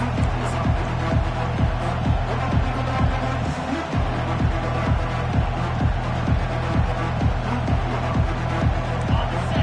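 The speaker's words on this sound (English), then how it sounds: "This crowd trying to show them what it's going to be like all day in this house." A college football stadium crowd roars in a steady rhythmic chant, with regular pounding beats, loud and sustained for the whole span, with no clear speech over it.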